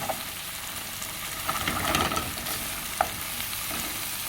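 Cooked spinach is stirred and broken up in a frying pan, giving a steady sizzle with scraping and clicking stirring strokes close by.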